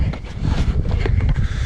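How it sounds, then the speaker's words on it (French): Blustery wind before rain buffets the microphone during an outdoor run, with a continuous low rumble and roaring gusts, loud and close, no voices. "là il y a du vent"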